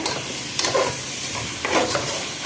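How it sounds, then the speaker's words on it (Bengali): Onion, ginger, garlic and spices sizzle and fry in a pan with a couple of stirring scrapes, steady hiss throughout, close and fairly loud, no voices. "আদা রসুন পেঁয়াজ মশলা যত যা আছে সব কিছু দিয়ে একদম কষাই নিচ্ছি"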